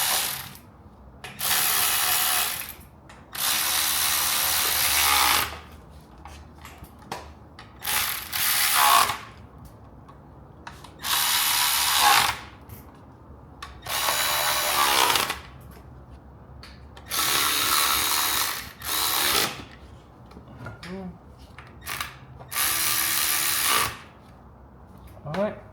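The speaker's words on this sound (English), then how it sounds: "Screw them all in. And the electric ratchet first." Electric ratchet spinning bolts in one after another during a ZF8HP gearbox swap on a Mercedes A124 3.6 AMG, a series of loud whirring bursts of a few seconds each separated by short pauses, close up, with no talk over them.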